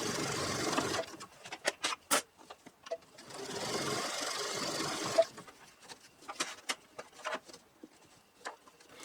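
A sewing machine runs in two short bursts of whirring stitching on yard flag fabric held by magnets, separated by clicks and small handling taps, all fairly quiet.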